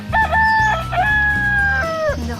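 A rooster crows twice in quick succession, loud and close, as the crowing sound of a toy farm animal.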